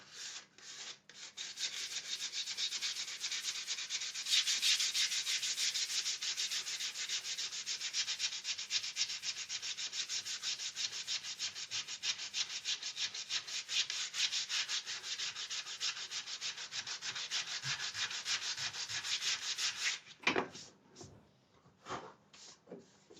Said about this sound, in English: A little bit of sanding will refine that